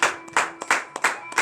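Congregation at a morning prayer service clapping in unison, four or five sharp, evenly spaced rhythmic claps close and fairly loud.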